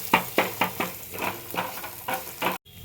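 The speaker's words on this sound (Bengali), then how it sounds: "হিংটা দিয়ে একটু নাড়াচাড়া করে নেব।" Asafoetida being stirred into a ginger-fennel paste frying in a pan for a Bengali dal: a steady sizzle broken by rhythmic scraping strokes of the spoon, about ten of them, before an abrupt cutoff.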